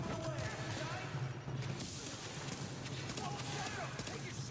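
Gunfire in the video game Tom Clancy's The Division, a dense run of rapid shots and impacts mixed with game noise and voices throughout.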